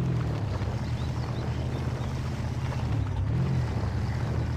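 A 1972 K5 Blazer crawler's engine runs at full throttle in the SpinTires video game, a continuous low droning rumble with a brief rise in pitch near the end, steady and close.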